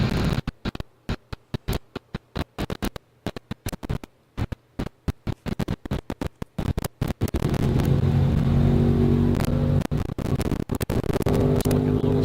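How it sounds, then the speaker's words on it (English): A 1953 flathead Ford 320 cubic inch V8 race car engine at a dry lake event, first popping and sputtering in rapid uneven bursts, then settling into a steady loud drone as it pulls away. "Engine was popping a little bit off the push truck. Sounds like it's doing okay now."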